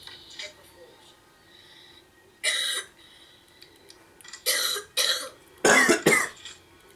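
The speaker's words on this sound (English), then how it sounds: "You're not the only one to cough a lot." Several sharp coughing bursts, two or three in quick succession near the end, broken by quieter stretches of faint background sound.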